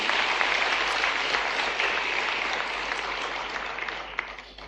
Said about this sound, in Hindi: जोरदार तालियां अक्षत के लिए भी